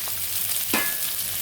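Sun-dried lentil vadiyalu frying in hot oil with curry leaves, ginger-garlic paste, turmeric and drumsticks, giving a brief steady sizzle with one sharp crackling burst in the middle.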